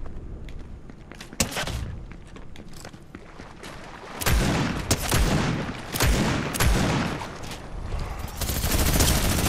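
Rapid bursts of gunfire and thumping blasts in a realistic shooter video game, loud and dense throughout, with sharp cracks and heavier booms stacking up in the second half.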